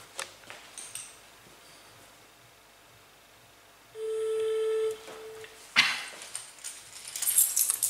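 A single steady ringing tone of an outgoing call to a mobile phone sounds for about a second in a quiet room, followed by clicks and faint rustling.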